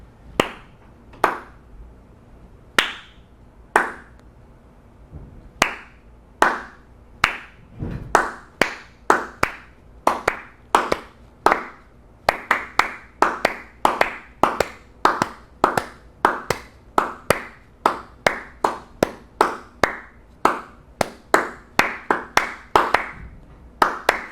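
Two people take turns clapping single handclaps, sparse sharp claps at first that speed up into a quick, alternating back-and-forth rhythm, close and dry.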